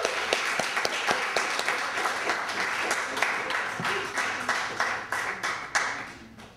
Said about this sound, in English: let's give Janice a great round of applause